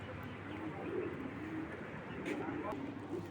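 Racing pigeons coo softly in a couple of low, rounded phrases, close by over a steady background hum, while someone talks nearby.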